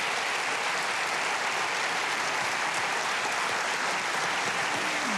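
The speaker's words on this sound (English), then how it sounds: "Would you please give them a big round of applause?" Dense, steady applause from a television studio audience, a continuous wash of many hands clapping at even volume with no talk.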